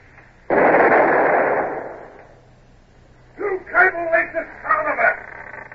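A naval long nine cannon firing aboard a sailing ship in an old radio drama gives one loud, sudden boom that rumbles and fades over a second or so, followed by someone speaking.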